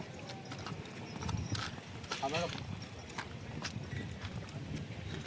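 Horses at the Yeola horse market, a livestock fair, with hooves clip-clopping on the ground amid a busy crowd; people talk nearby throughout, and a brief whinny-like call rises in the middle.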